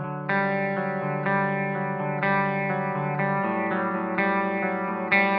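Electric guitar through a Marshall JMP-1 with a shimmering chorus effect, sustained chords strummed roughly once a second, full and steady with no talking.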